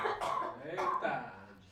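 A person coughs a few times during a radio interview, close but faint, with voiced throat-clearing bursts.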